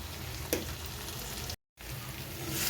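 Chicken frying in a pan with ground black pepper, stirred during a Bengali-style kosha, a constant close sizzle with a brief scraping stir, broken by a short moment of silence.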